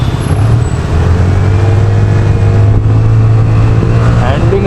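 VLF Mobster scooter accelerating on the road, a loud close engine drone with a low steady hum and rising harmonic whine, plus wind rush throughout.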